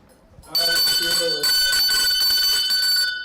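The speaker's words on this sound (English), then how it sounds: "Ring the bell. Ring the bell." A bell rings out loudly in a sustained, rapid metallic ringing, starting abruptly, pausing briefly, then continuing for a couple of seconds; a voice is heard faintly beneath it at the start.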